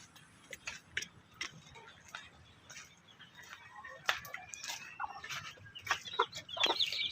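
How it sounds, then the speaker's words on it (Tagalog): Brahma chickens clucking in a farmyard, with scattered close clucks and ticking calls that become more frequent toward the end. "So yan guys yung ating Brahma chicken."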